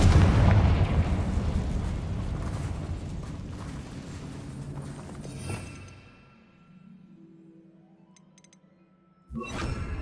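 Spell explosions in the Hogwarts Legacy video game, a loud booming blast that decays into a long rumbling tail, followed by a fainter tonal shimmer and another sharp burst at the end.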